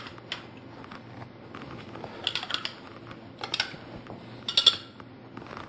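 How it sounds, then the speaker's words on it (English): Water samples in cups are stirred with light clicks and clinks in short clustered bursts, fairly close and quiet over a low steady hum. "we'll kind of stir these up real quick so you can get a better look"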